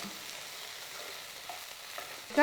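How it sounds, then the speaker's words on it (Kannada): Okra pieces half-fry in a pan for chutney with a quiet, even sizzle and light stirring, ending in a brief, louder tonal burst. "ಇದು ಬೆಂಡೆಕಾಯಿ ಅರ್ಧ ಫ್ರೈ ಆದರೆ ಸಾಕು"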